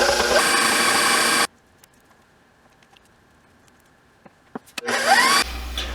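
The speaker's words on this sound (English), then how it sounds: "throwing our butter into the mixer and we'll mix that up until it's nice and smooth" An electric stand mixer creams butter for sugar cookies, a loud steady whir for about a second and a half, then near silence, then another short whirring burst near the end.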